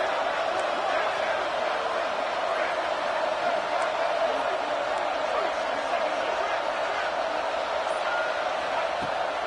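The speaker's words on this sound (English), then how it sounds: "this crowd is electric trying to stop them" A football stadium crowd cheers loudly during a tense two-point conversion attempt, a dense, unbroken roar of voices holding at a steady level throughout.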